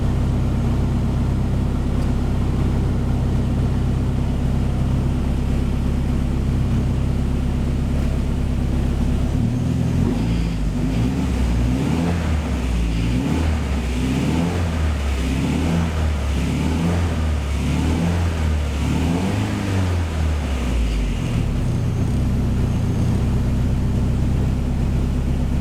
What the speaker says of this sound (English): see as I rev and get the engine up to temperature, it just keeps lowering.